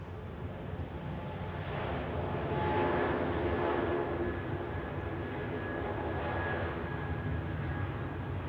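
A jet airliner bound for Dublin takes off at Zurich Airport in a crosswind, a steady distant roar of engines that swells slightly midway and holds without a break.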